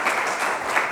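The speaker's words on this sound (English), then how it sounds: "we should give a round of applause to all the panelists" An audience at a health summit panel session on patient safety applauds the panelists, a brief, dense burst of clapping from many hands.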